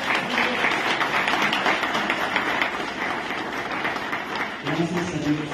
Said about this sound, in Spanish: Dale un aplauso, papá.